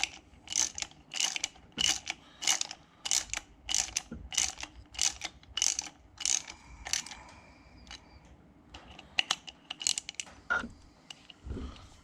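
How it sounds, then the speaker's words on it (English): Ratchet wrench tightening the bolts on a big supercharger pulley of a 2012 Hemi 1500 engine, a run of quick, sharp clicking bursts in a steady rhythm, close and fairly loud, with no one speaking. "I'll come in here and torque these down"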